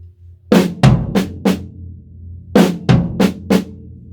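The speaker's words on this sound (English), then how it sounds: "you're just going to continue the left hand paradiddle as you are" Left-hand paradiddle on a drum kit's snare and floor tom: two bursts of four close, sharp strokes with a short pause between them, played alone.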